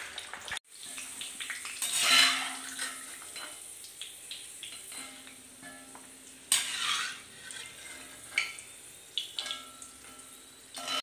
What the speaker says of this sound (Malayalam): ഇതിലേക്ക് കുറച്ച് കിസ്മിസും കൂടി ഫ്രൈ ചെയ്തെടുക്കാം